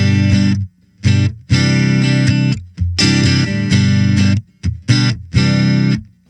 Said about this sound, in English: Why don't we play it without delay and reverb?